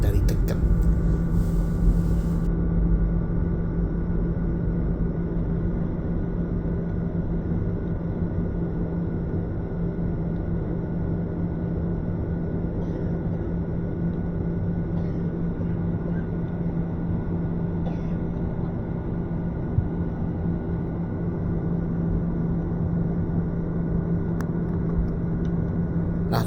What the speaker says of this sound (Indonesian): kita persiapan take off, dan pesawat akan diterbangkan sampai di ketinggian 2000 kaki